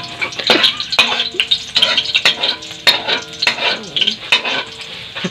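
Garlic frying over low heat in a pan for pork adobo, with a continuous sizzle broken by repeated close, brisk stirring and scraping strokes.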